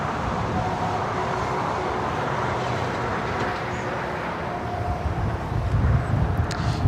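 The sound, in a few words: China Cargo Airlines Boeing 777 freighter taking off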